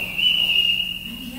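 A single sustained, shrill whistle blast is blown to summon children in a household, steady and fairly loud, with a low hum underneath.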